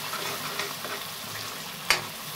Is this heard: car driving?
no